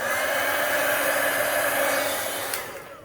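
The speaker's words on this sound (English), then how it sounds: "So let's heat tool that." Craft heat tool blowing hot air to dry ink on stamped paper, a continuous close whooshing fan roar that holds steady before tapering off at the end.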